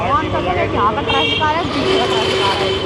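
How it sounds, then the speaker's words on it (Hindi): Steady roar of street traffic near the Ram Jhula and Janki Setu bridges in Rishikesh fills the background while a person talks loudly over it. "एक सामने की ट्रैफिक की आवाज़ आ रही है और मेरे पीछे ट्रैफिक की आवाज़ आ रही है"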